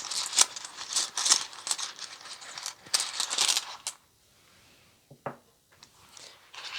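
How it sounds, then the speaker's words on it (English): Small rune stones drawn and handled for a reading, a close series of clicking, clattering knocks as they shift and tumble together, then a quieter stretch with a few isolated taps. "Let's draw more runes."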